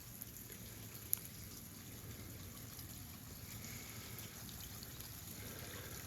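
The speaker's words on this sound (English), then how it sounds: "There's my man-made creek." Faint, steady trickle of water in a man-made garden creek, a soft continuous wash with one brief click partway through and no voices.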